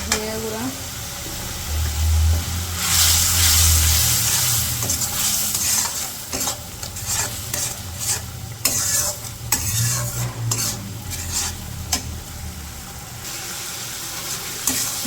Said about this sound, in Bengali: মশলাগুলো কষে নিচ্ছি। এখন হচ্ছে মাছগুলো দিয়ে দিই। মাছগুলো দিয়েও ভালো করে কষে নিই।